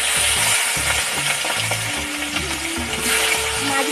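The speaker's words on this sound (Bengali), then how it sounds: "তেলটা গরম হয়ে গেছে এখন আমি মাছগুলোকে ছেড়ে দেবো এর ভিতরে" Fish frying in hot oil for a jackfruit curry in a village kitchen, a dense steady sizzle with crackling, close and loud throughout, with faint clinks and low background hum and no talk.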